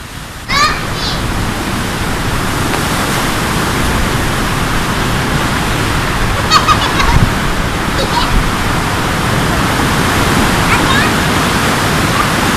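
Rushing water where a river meets the sea, a loud continuous roar of flowing current and surf with a few faint voices and birdlike chirps breaking through.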